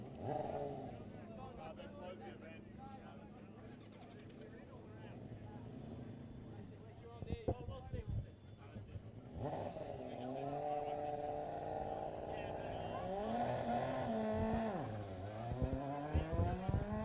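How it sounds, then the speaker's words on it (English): A Formula SAE student race car revs and accelerates down a straight during an acceleration event, its engine note climbing in pitch from fairly far off while a commentator talks over it throughout. "Here comes the Flinders car again."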